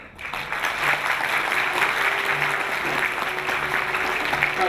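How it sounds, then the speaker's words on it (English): An audience at a peace event in Myanmar applauds as a ceremonial scroll rolls open, a steady, dense patter of many hands that holds throughout with faint tonal sounds beneath. "When the scroll rolls out to open, please give a thunderous applause"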